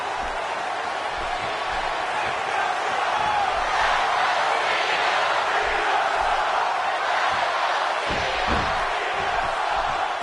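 A video-game wrestling crowd in WWE 2K16 roars in a steady, dense wash of cheering that swells slightly partway through, with no clear talk over it.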